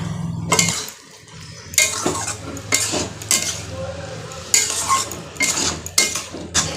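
Potatoes and corn are stir-fried with soy sauce in a pan, giving repeated scraping and clinking strokes of a spatula against the metal pan over a light sizzle, in irregular bursts with short pauses.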